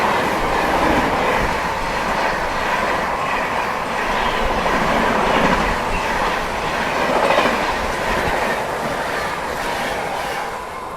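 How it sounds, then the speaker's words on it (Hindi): The Howrah Rajdhani express rushes past nearby in a dense, loud, continuous roar of rolling wheels with faint rhythmic clatter, holding steady for the whole stretch and easing slightly at the end. "अभी तो जस्ट यहाँ से हावड़ा राजधानी निकली ही है"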